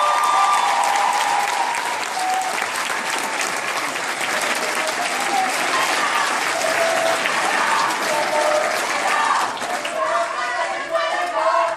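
Concert audience at a show applauding loudly and steadily for about twelve seconds, dense clapping filling the room with a few voices mixed in.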